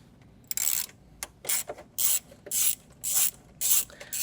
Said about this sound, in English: Now, let's remove 1, 2, 3, 4 10mm bolts.